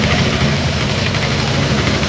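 A steady, loud engine drone idles continuously with a deep low rumble and no breaks, close by and unchanging throughout.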